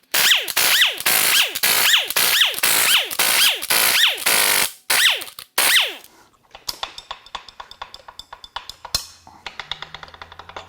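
A power tool, an impact gun, spins main cap bolts out of a 2010 Toyota Corolla engine in a string of loud, rising whirring bursts. It is followed by lighter clicks and rattling as the bolts come free.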